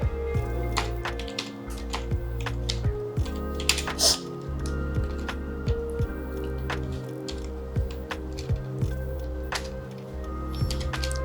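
Password typed on a computer keyboard, a steady run of soft close key clicks over a constant low electrical hum, with no talking.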